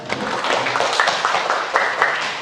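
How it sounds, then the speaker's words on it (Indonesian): Brief round of classroom applause from students during a lesson, a short patter of hand claps over roughly two seconds with some voices mixed in. "kita berikan tepuk tangan dulu"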